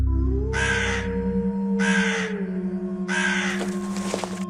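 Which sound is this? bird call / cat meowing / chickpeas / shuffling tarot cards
bird call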